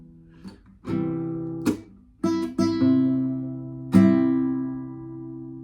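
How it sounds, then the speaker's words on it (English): Low guitar strings, the 5th and 4th, plucked one after another, about six notes with irregular spacing, each ringing out and slowly fading; no talking. "then we hit some of the lower strings."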